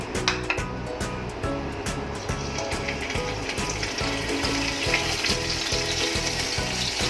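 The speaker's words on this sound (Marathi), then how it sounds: "थोडंसं तेलावरती पनीर परतून घेऊया शॅलो फ्राय" Paneer shallow-frying in a little oil crackles with a steady close sizzle over a regular low pulsing hum, with a few sharp clicks early on.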